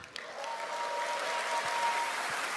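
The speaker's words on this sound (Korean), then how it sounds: "새 환호성이 너무 좋으네요." An audience applauding and cheering as a new company chief executive takes the stage at a corporate lecture event, a steady, fairly distant wash of clapping.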